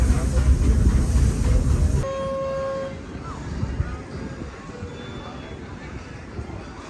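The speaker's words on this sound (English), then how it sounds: "And just like magic, there's the monorail." A Disney Magic Kingdom monorail train passes with a broad rushing roar that suddenly drops off, leaving a steady rumble with a brief tonal hum; a voice talks over it.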